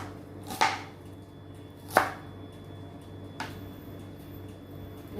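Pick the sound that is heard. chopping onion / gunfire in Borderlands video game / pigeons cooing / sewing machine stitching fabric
chopping onion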